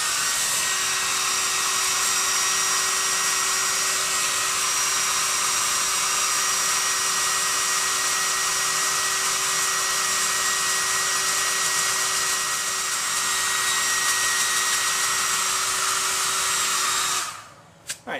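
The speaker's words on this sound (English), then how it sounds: "blow the hairdryer into the bowl and toss it gently so that we can separate out" A hairdryer blowing steadily into a bowl of cocoa nibs to winnow off the husks: a loud, constant whine with a buzzing hum that runs unbroken for about seventeen seconds, then cuts off abruptly.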